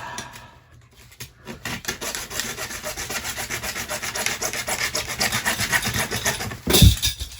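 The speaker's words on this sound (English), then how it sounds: "You want to try to hacksaw that last little bit?" A hacksaw cuts through the last bit of a pipe in a utility closet, its steady back-and-forth rasping strokes running close and loud for several seconds before ending in a brief heavy clunk.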